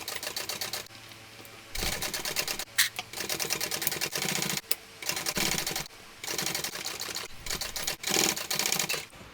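Domestic sewing machine stitching a bag lining seam with zipper kept aside, running in several bursts of rapid mechanical clatter separated by short pauses, close and fairly loud.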